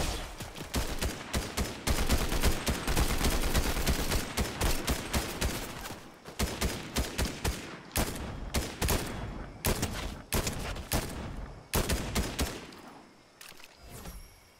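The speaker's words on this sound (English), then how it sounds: "Someone is shooting." Gunfire in Fortnite, a battle royale game, arrives as rapid, dense bursts of automatic shots, continuous at first and then broken into separate volleys with short gaps, loud and close.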